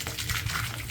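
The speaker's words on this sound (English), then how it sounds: "Now I'm gonna follow through with some hot water." Hot water poured down a bathroom drain, a brief gushing, gurgling splash lasting about a second, close and fairly loud.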